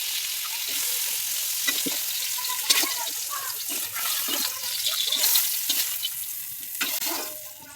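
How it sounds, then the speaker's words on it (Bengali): Eggplant fries in hot oil, a bright continuous hiss and crackle up close, with soft bubbling bursts and occasional stirring. "বেগুনটা পুরো আমার নরম হয়ে গেছে, এবারে ভালো করে ভেজে নিয়েছি"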